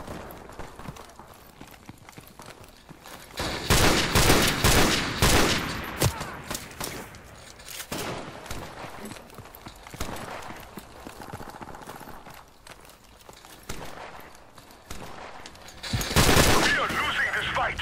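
Gunfire from a rapid-fire rifle in Call of Duty Modern Warfare Remastered, in loud clustered bursts with quieter ambient game noise between them.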